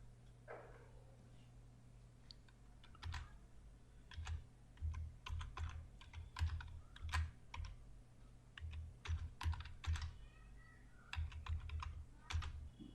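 Computer keyboard typing in bursts of fast clicking keystrokes with short pauses, close and clear over a low steady hum, no voices.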